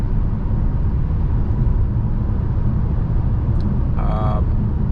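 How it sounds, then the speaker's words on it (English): Steady low road roar of tire and wind noise inside a 2023 Renault Captur E-Tech 145 full hybrid cruising near 100 km/h at night, with a faint brief tone near the end. "There is wind noise coming from the side mirrors"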